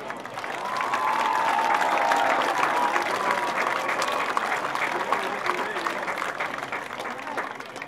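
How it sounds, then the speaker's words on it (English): An audience claps and cheers at a high school football game, a loud wash of applause that swells in the first seconds, holds steady, then slowly tapers off. "Please join us in a round of applause thanking them."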